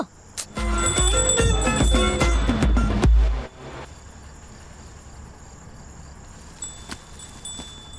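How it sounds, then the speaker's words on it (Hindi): A bell rings loudly in a rapid, sustained metallic clatter for a few seconds, then stops, leaving quiet room tone with faint clicks. "अभी घंटी बजी थी ना"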